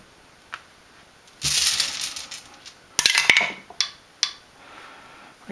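Dice rolled one at a time onto a tabletop during a Dice Tetris game, two bursts of rattling clatter with a few sharp clicks and taps between them, close and alone without talk.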